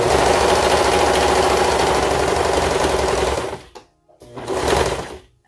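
A sewing machine stitches knit fabric for an Emerie romper in a loud, fast, steady whir. It stops briefly, then runs again in a short burst.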